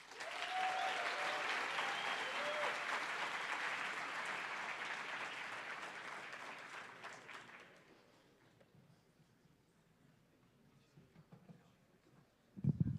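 A large ceremony audience applauds the twelve finalists with a dense, loud wash of clapping that holds for about seven seconds, then fades to a quiet murmur before a brief burst of noise at the end.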